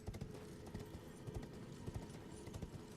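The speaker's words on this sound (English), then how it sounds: "Depends if it lets me run my horse up here or not." A horse gallops in the Elden Ring video game, its hooves beating in a quick, steady clip-clop rhythm that stays fairly quiet throughout.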